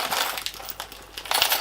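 Small metal keys clink together in a hand, a few bright jingling bursts at the start and end with a quieter gap between, close up and with no talk.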